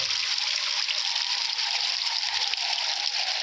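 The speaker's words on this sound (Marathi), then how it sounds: "इथलं हिचं पाणी चालू झालं हे बघा" Water from a spring flowing out of the wall of a 36-foot well, a steady close rush and trickle that continues without a break.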